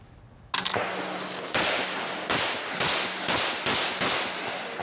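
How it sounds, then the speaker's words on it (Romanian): Gunfire in a rural area of Colombia's Arauca department: a burst of several loud, sharp shots at uneven intervals, each cracking and ringing out over a persistent bright hiss. "Zeci de focuri de armă au fost trase într-o zonă rurală din departamentul colombian Arauca"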